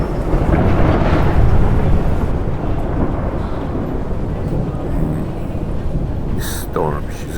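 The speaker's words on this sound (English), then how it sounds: "we hear the roll of a thunder" A loud thunder crash rolls through a stormy night sky, a broad, sustained rumble filling the first seconds and then easing into a steady roar, with a brief voice heard near the end.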